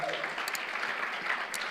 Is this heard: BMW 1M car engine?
no